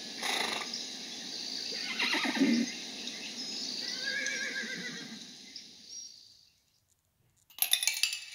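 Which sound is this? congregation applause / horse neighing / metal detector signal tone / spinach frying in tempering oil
horse neighing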